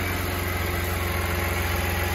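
A 2002 BMW M3 E46 convertible with its 3.2-litre six-cylinder engine idles steadily up close, a smooth even hum with a fine regular pulse and no voices.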